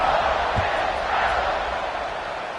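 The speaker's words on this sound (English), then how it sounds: "this crowd is buzzing after that last score" Football stadium crowd buzzing with a dense, steady roar of many voices after a touchdown, filling the air evenly and loudly throughout.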